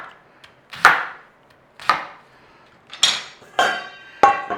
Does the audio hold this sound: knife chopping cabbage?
yes